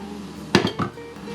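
A spoon scrapes and knocks against a pot of lentil soup with tomato paste and vegetables, a couple of quick clinks in a short stir.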